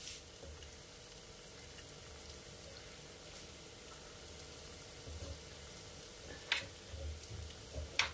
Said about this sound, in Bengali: এটা আমি একটু লাইট ব্রাউন করে ভেজে ফিরে আসছি আপনাদের কাছে